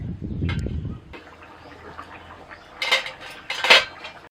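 A metal lid clatters onto a cooking pot holding spiced potatoes and stems simmering in water, two sharp clinks in quick succession after a softer bubbling and scraping start.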